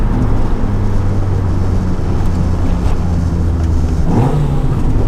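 A modified Honda Civic EK hatchback race car engine roars loudly and continuously, with wind buffeting; near the end the pitch sweeps sharply upward as it revs harder into VTEC.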